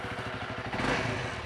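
A Honda CRF300L single-cylinder dual-sport motorcycle engine thrums at a steady pulse while riding, close and fairly loud, swelling briefly as the throttle opens, with wind rumble mixed in and no talking.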